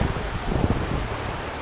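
Heavy rain pours down during a train journey in rural Maharashtra, a dense, loud, continuous roar of water with a deep rumbling low end and no speech.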